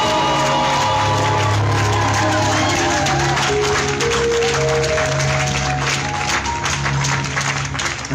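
A church congregation claps and cheers continuously during a worship service, loud and dense, with sustained musical tones and voices mixed underneath.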